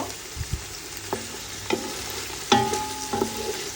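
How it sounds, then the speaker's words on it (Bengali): Chicken meat frying in a pan for haleem, a low sizzle with scattered scrapes and clinks of a utensil stirring, a few sharper knocks and a brief ringing tone near the end, close by with no talk. "আগে আমি মাংসটাকে একটু ভালো করে ভেজে নিচ্ছি"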